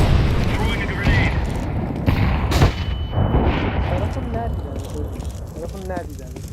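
A grenade explodes during a Counter-Strike match in the Vitality vs G2 Blast Premier grand final, two sharp booming blasts breaking through a dense layer of game noise and voices.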